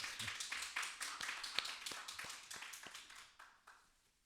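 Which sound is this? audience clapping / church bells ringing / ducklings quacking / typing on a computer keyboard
audience clapping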